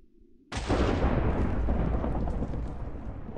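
A thunder staff strike in a modded survival video game bursts in as one sudden loud crack, then rolls on as a dense, rumbling boom that keeps up the same loudness and stays near.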